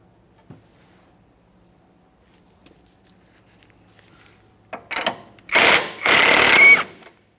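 Impact wrench breaking loose the 18mm strut mounting nut on a 2010–2013 Kia Forte Koup: after faint handling clicks, two loud, close, rattling bursts of about a second each.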